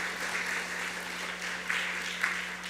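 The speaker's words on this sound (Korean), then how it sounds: "우리 감사의 박수로 격려하도록 하겠습니다" Applause of thanks from a church congregation after a Sunday lunch, a steady wash of many hands clapping together at moderate volume with a few louder swells, no voices over it.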